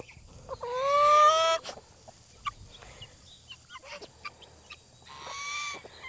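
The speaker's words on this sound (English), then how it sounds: "All right, move, little guineas." Tame guinea fowl gathering near a barn at feeding time, with a loud, rising burst of harsh calls early on, then scattered short chirps and clucks, and another cluster of calls near the end.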